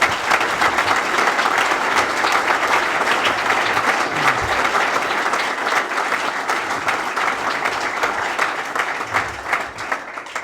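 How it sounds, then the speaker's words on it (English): Crowd at a highway interchange groundbreaking ceremony claps steadily and densely throughout, a continuous wash of applause close by that eases only slightly toward the end. "Pat Lloyd deserves a special round of applause, please."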